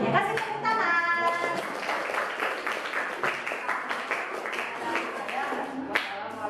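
Classroom applause for a student group after a drawing presentation, with many hands clapping in a dense, steady patter and children's voices chattering over it throughout.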